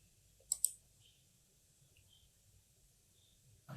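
A computer mouse clicks twice in quick succession on a generate button, sharp and close, followed by near silence.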